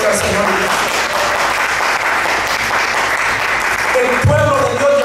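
Loud, sustained applause from a church congregation, a dense roar of clapping filling the space, with a voice speaking over it near the end.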